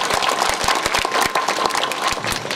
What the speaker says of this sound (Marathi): पुन्हा एकदा कार्यकर्त्यासाठी जोरदार टाळ्या वाजवा.